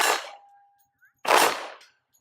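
A Glock 40 MOS pistol fires twice, each shot a sharp, loud crack followed by a short decaying ring, with about a second of quiet between them.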